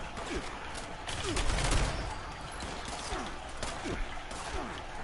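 Gunfire from the Fallout 76 video game, a shotgun among repeated sharp shots crackling through a busy, noisy battle, with a thicker burst near the middle.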